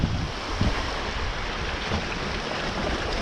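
Ocean waves surge and wash steadily at Fenit Pier on Ireland's west coast as a gusty wind buffets the microphone, the roar continuous and loud with no voices.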